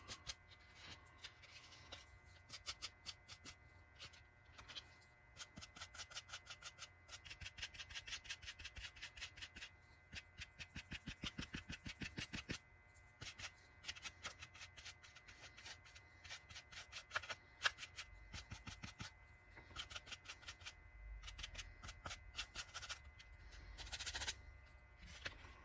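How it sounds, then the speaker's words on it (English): A stiff brush scratches paint off a plastic dollar-store hockey mask, giving a long run of quick, dry rasping strokes in irregular bursts, close and fairly quiet, with no voices. "the brush will actually scratch some of it off"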